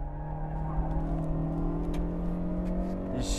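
Several cars run nose to tail on a race track, their engines holding a steady, moderately distant drone with a faint whir on top and no speech.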